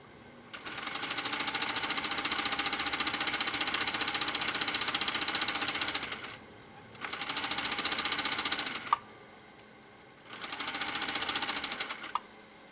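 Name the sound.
vintage sewing machine motor running via foot controller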